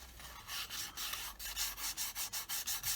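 Light sanding strokes rub across a model aircraft part, removing nibs from a vintage Fokker Dr1 kit, in a soft steady rhythm of short scratchy passes that grow more regular toward the end, close and fairly quiet with no talk.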